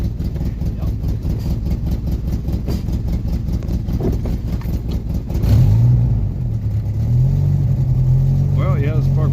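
A 1986 Jeep Comanche pickup engine idles with a low, steady rumble and chugging pulses, briefly rising in pitch as it revs, with faint voices underneath.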